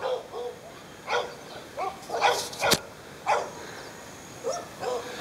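In a back yard, dogs bark and yip in short, scattered bursts at a moderate distance, some sharper and louder than others.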